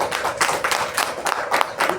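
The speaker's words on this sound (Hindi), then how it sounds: "मैं एक बार जोरदार तालियां सर के लिए चाहूँगा" An audience at a weekly meeting in Dehradun claps for a guest speaker, a lively burst of hand-claps with uneven rhythmic peaks, fairly close and with no talking over it.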